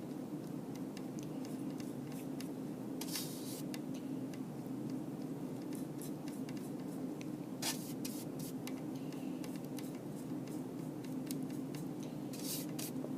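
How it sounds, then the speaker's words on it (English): A soft brush spreads a coat of underglaze over a pottery piece, giving faint, scratchy swishes at intervals over a low steady room hum, with no one talking. "I'm going to use what I have left on my plate and go ahead and brush a coat on"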